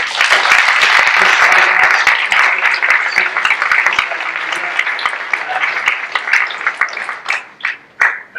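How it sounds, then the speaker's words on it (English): Conference audience applauds a discussion panel, loud sustained clapping that thins out toward the end into a few scattered final claps. "can you give a big round of applause to my panel"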